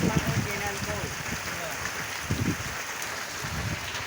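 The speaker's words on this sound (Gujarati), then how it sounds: "વરસાદ વરસવા માંડ્યો છે" Heavy rain falls outdoors on a farm where buffaloes stand in the downpour. A steady, dense hiss runs throughout, broken by a few low bursts of voice or animal sound.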